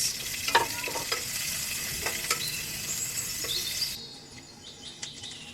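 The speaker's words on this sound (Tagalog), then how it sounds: "Gisa na tayo ng sibuyas." Sliced onions sauté in a pan at a farm glamping site, giving a bright steady sizzle with light stirring clicks that drops away abruptly near the end, heard up close.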